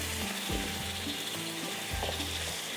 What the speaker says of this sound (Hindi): अब तेज़ आग पर मैंने इसको भूनना है ताकि इसका पानी भी खुश्क हो जाए